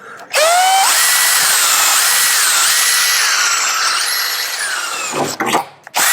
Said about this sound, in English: when you're drilling these out and pushing, try not to bend it